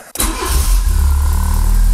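A Fiat Seicento SPI turbo engine running on E85 with twin injectors cranks briefly, catches and settles into a loud, steady, close-up idle.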